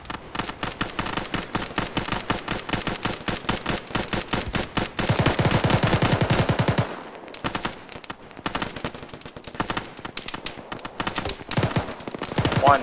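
Rapid automatic gunfire in an Arma infantry firefight during a ShackTac squad push into a town, dense sustained bursts for about seven seconds, then sparser shots and bursts continuing, loud and close.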